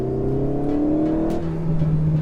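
An Alpine A110S sports car accelerates hard through the gears, a close, loud engine note climbing in pitch and then dropping as it shifts up.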